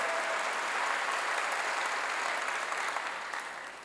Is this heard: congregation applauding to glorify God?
yes